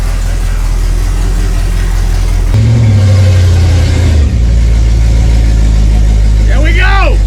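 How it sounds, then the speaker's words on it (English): A 1955 Buick engine rumbles loudly and close, then revs as the car is put into gear and pulls away under its own power for the first time, with excited voices over the engine near the end. "time to drive this 55 Buick out under its own power for the first time"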